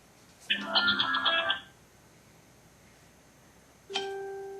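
A phone rings during a family court hearing: a bright electronic ringtone chimes for about a second, falls silent, then starts again near the end, sounding clear within the quiet room.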